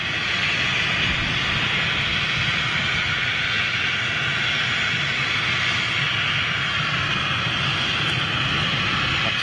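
An Embraer jet arriving at London City airport produces a loud, continuous broadband engine roar that holds steady throughout, with no talk over it.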